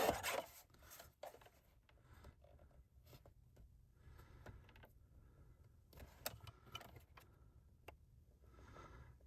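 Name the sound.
paper trimmer cutting card mat to size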